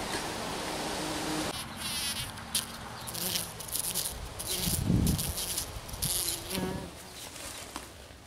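A bumblebee forages on flowers outdoors, its buzzing wings humming in close, uneven bursts that come and go above a steady background hiss, with no speech.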